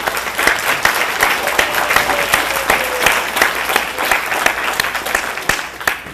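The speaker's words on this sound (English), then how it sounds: "A round of applause for all of you." A graduation crowd at the MyWIC 2022 ceremony claps for the graduates, a loud, dense and sustained ovation with scattered sharper claps standing out from the steady roar.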